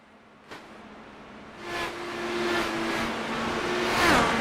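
Dallara IR-18 IndyCars race around the oval in iRacing, their engines whining in a steady high drone. Several cars sweep past, each pass swelling louder before easing off.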